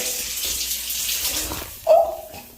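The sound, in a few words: tap water shooting far out of a faucet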